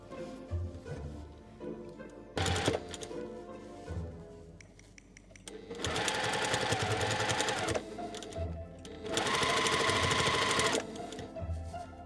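Sewing machine stitching the sides of a fabric medieval minstrel hat, running in several bursts of rapid, steady stitching with short pauses and quiet handling between them, close and clear.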